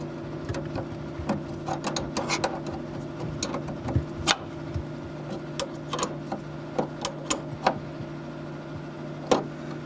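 A nut is tightened down on a bolt with a washer during brake servo work on an early post-war Rolls-Royce, giving a run of close, quick metallic ticks and clicks over a low steady hum, with no talking.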